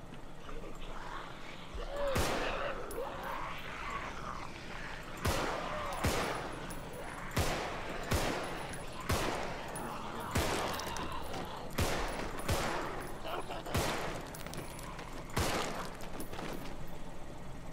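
Gunfire rings out in the zombie survival game Contagion: sharp, loud single shots fire at irregular intervals about a second or two apart over a steady low background hum.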